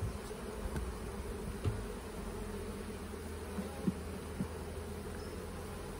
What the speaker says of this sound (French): on voit les abeilles qui rentrent, toujours appelées